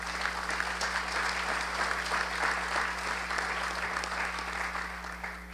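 An audience at a rally against white supremacy applauds, a steady wash of many hands clapping at even loudness for several seconds before tapering slightly, with a constant low electrical hum beneath.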